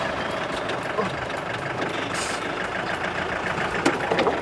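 A car engine idles steadily and close by, a continuous low rumble with broadband noise running throughout, a brief hiss partway through, while voices shout over it in a rural comedy skit.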